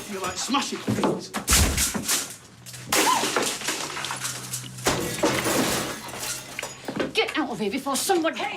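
Things are smashed indoors in a drama scene, with loud crashes, slams and breaking bursts at intervals, mixed with shouting voices.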